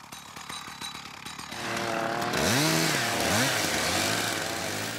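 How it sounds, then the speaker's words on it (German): A chainsaw cuts blocks of ice on a frozen lake in Masuria, first a rapid ticking idle and then a loud sustained buzzing whine that rises and dips in pitch as the blade bites, close and with no voices. "Am Ufer des Lajmiada-Sees sind Männer dabei, tonnenschwere Blöcke aus dem Eis zu sägen."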